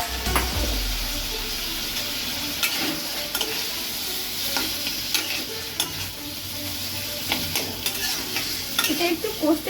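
Mashed potatoes are tipped into a hot frying pan and stirred for a spiced Mathura-style potato curry, with a loud, steady sizzle and repeated scraping of the spatula against the pan close by.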